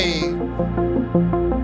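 A bright, buzzy simple-waveform synth lead plays a short run of repeated notes with steady rhythm, loud and close, with no voices.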